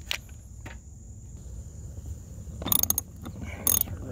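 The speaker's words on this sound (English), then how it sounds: "We'll ratchet it in." A hand ratchet tightens a bolt holding a mud flap under a Tesla Model 3, giving short bursts of quick metallic clicking, close and clear, with gaps between strokes and no voices.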